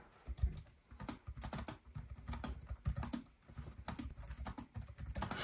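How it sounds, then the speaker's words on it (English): Close, crisp keystrokes on the keyboard of a 2023 ASUS Zephyrus G14 gaming laptop, irregular rapid clusters of soft clicks with short pauses, quiet and alone. "Let's do a quick typing test."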